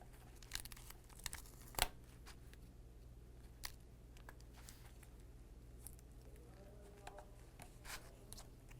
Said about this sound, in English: I'm just going to grab my tape and cover up my clasp really quickly